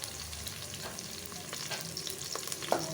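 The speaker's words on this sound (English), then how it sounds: "nicely frying" Mutton biryani ingredients frying in a pot, a soft continuous sizzle with scraping stir strokes against the pot, heard close and alone.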